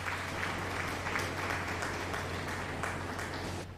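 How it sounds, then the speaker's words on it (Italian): An audience claps in steady applause at a Farming Simulator 22 comedy episode, a dense, even wash of hand claps that lasts a few seconds before easing off, with no voices. "faccia un bel applauso a tutti."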